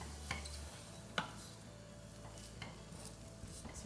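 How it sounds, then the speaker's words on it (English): A melting marshmallow mixture stirred in a pan, faint soft scraping and clinks of the utensil against the pan at an irregular pace, with a light sizzle underneath. "You just need to keep stirring it at this moment."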